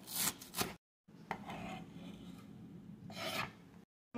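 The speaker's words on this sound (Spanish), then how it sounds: "Y aquí estamos picando el cilantro." A knife rasps and taps repeatedly against a cutting board while chopping cilantro for a shrimp ceviche, in short brisk bursts broken by brief pauses, close and fairly quiet with no talking.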